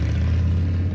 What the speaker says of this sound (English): This is the sound of a popular American motorcycle.